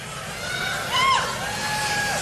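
Political rally crowd in Phoenix, Arizona, cheering with a steady roar, a brief swell of whoops and whistles near the middle, sustained and fairly loud.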